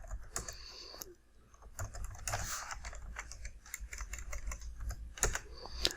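A git log command typed on a computer keyboard, heard as a quick, uneven run of crisp keystroke clicks with short pauses, close up and with no voices.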